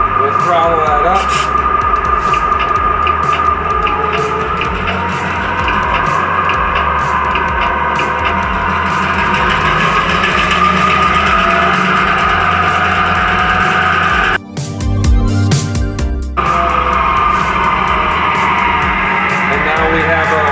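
A G scale model locomotive sound decoder plays a 645 diesel prime mover throttling up. It gives a steady, loud droning rumble with a brief interruption partway through.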